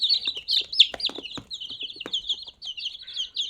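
Chicks peep continuously in high, rapid bursts, close by, with a few soft low bumps and rustles underneath.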